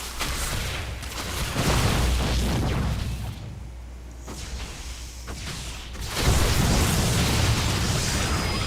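Cannons being destroyed in a StarCraft match, a dense barrage of game explosions and booms, loud and continuous with a brief quieter lull before the blasts surge again.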